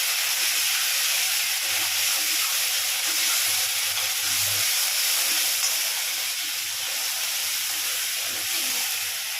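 Chopped tomato and boiled potato sizzle and hiss in a hot pan, a steady close frying sound with faint stirring and no voices.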